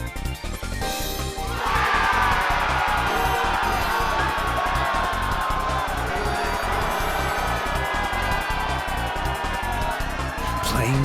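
An arena crowd in the Skullgirls fighting game roars and cheers steadily for Beowulf, a continuous wall of crowd noise with whoops, mixed with game music and character voices.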